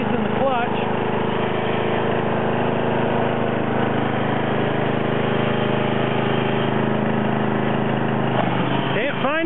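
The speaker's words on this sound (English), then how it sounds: "Got some noise in the clutch." A John Deere 111 lawn tractor engine runs at a steady, droning idle close by, with a rough mechanical rattle from a noisy clutch mixed in. A voice talks over the engine noise.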